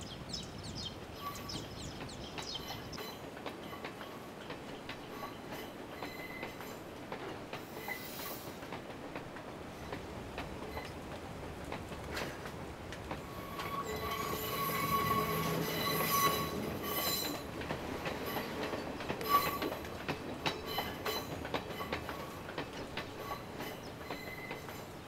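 A train rolls past near Ohiya railway station in the highland forest by Horton Plains, a steady rumble with wheel squeal and rail clatter that swells louder midway, with faint birds in the background.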